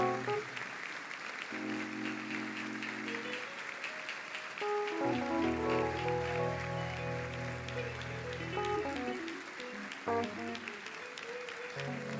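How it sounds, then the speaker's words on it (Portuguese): A church worship event audience applauds, the clapping spreading as a dense patter under sustained music, steady across the whole stretch. "E eu quero que vocês aplaudam agora."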